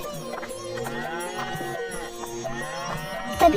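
Cartoon pair of bulls lowing repeatedly, with long harmonic moos overlapping through the clip, clear and fairly close with no talk over them.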